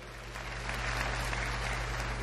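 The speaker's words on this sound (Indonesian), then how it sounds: "boleh tepuk tangan buat Tuhan." Steady applause from a church congregation in Bali, a broad even wash of clapping that swells slightly and holds at moderate loudness, with a constant low hum beneath and no talking.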